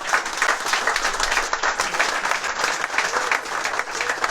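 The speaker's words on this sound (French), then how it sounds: "On peut applaudir." A crowd at a political rally supporting a presidential candidate claps steadily throughout, a dense, even roar of applause with no pause.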